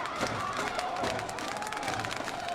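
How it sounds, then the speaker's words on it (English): Stadium crowd at a rugby sevens Olympic qualifying match roaring and cheering steadily in the distance, a continuous swelling wash of voices with scattered shouts. "The crowd is ramping things up here."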